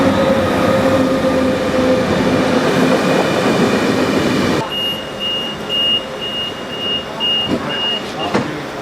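Austrian passenger train riding smoothly toward Budapest, a steady loud rumble of wheels and carriage noise with a high electrical whine, which eases partway through into a quieter hum.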